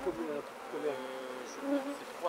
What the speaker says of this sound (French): Des abeilles sont prélevées dans un récipient contenant du sucre glace.